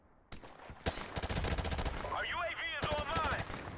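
Rapid bursts of M4 carbine fire in the Modern Warfare Remastered video game, loud and close, several quick volleys over about three seconds with game sound effects and a faint voice underneath.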